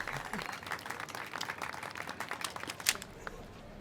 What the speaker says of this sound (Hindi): हाँ, तालियां बजाओ बजाओ।